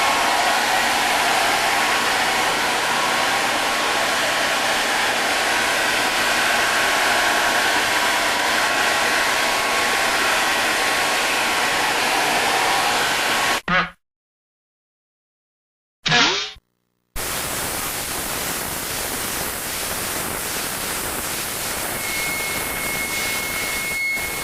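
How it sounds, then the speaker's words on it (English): A hair dryer blows steadily on a freshly sprayed PVA release coat over a fiberglass mold, a loud continuous whooshing hiss that cuts out briefly, restarts, and then carries on with a slightly different airy roar. "I recommend using a hair dryer"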